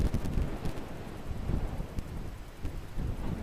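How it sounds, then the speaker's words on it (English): Strong wind on a Flinders Island hilltop buffeting the microphone, a loud continuous low rumble with rushing gusts and no speech. "Plenty of wind if you've got a wind generator."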